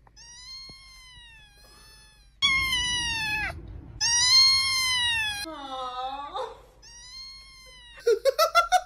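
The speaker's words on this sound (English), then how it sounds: "did you hear a cat?" A cat meows several times in a row, clear, close and loud, with drawn-out calls and a short burst of quick, choppy cries at the end; no one talks.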